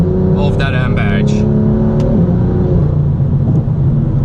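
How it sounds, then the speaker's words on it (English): A BMW M2 tuned by PP Performance to 450 horsepower, fitted with an FI exhaust, rumbling loudly with a sustained deep engine drone, while a person talks over the start. "450 horsepower and that crazy FI exhaust"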